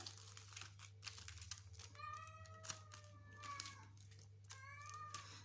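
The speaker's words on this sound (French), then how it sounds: "Excusez mon chat, si vous l'entendez miauler." A cat meows several times in short, rising-and-falling calls, fairly close, over a steady low electrical hum and light rustling.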